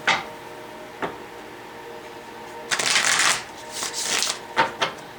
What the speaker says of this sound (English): One more shuffle, Aquarius.